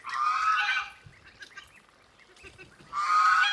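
Geese honk loudly in two bursts at the start and end, with quieter poultry sounds of hens and ducks in between, in a backyard coop with crested ducks.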